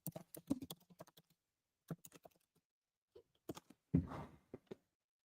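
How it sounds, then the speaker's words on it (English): Computer keyboard typing in scattered quick bursts of clicks with short pauses between them, fairly close and moderately quiet, with no talking. "I gotta type this up real quick."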